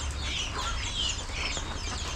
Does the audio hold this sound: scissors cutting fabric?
no